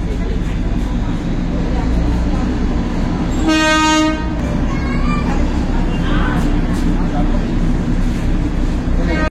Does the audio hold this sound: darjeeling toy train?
yes